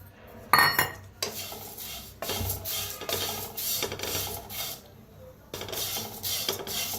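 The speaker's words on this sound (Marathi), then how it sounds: "आता गॅसवर ठेवल्या कडाई आता फोव आपण जरा भाजून घेऊया" Poha (flattened rice) dry-roasted in a kadai on a gas stove, heard as repeated close scraping and rattling of a spoon against the metal pan, coming in rhythmic bursts with brief pauses.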